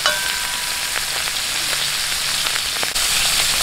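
Beef morcon frying in a pan, a steady loud sizzle with scattered crackles and pops running throughout, close up and continuous with no talking.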